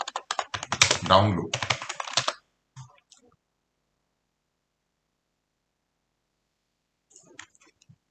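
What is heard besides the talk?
typing on a computer keyboard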